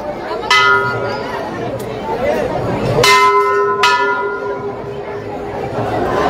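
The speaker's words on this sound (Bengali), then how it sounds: "ঘন্টাটা কি বড় দেখুন।" A large bell at a crowded Shiva temple on Shivratri rings out in two clear clangs, loud and near, with ringing tones hanging over a busy background of devotees chattering.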